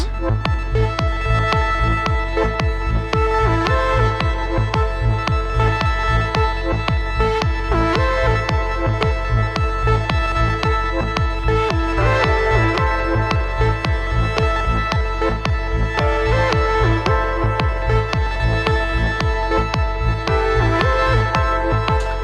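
A dense electronic groove from a Roland MC-707 groovebox with steady pounding kick drums, layered synth parts and percussion all playing at once, loud and continuous.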